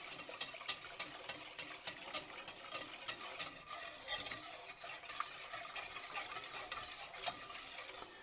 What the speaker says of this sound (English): we're gonna take a whisk and just gonna mix this together really well